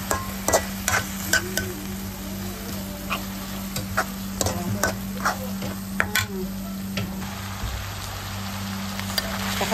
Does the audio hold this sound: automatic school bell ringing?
no